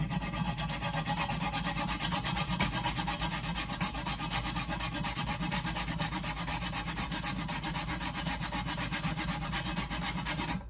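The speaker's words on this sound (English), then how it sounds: "I'm gonna grab my grater and grate some nutmeg into this" Steady, rapid rasping scrape of nutmeg rubbed against a grater, continuous and close, with no voices.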